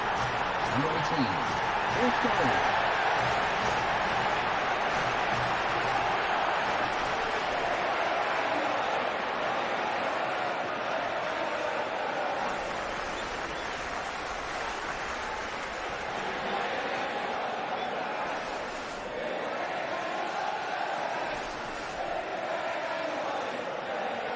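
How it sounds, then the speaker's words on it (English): A packed stadium crowd at a Manchester United versus Manchester City friendly in a FIFA video game, a continuous wash of cheering and chanting that stays steady throughout. "it's packed. The crowd are up for it"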